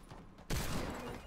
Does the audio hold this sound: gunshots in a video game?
yes